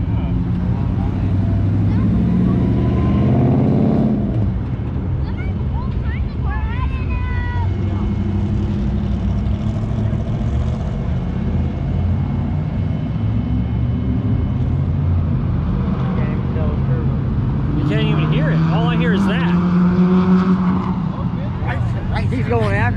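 A car engine running on race gas rumbles low and steady throughout, partly buried under people talking nearby.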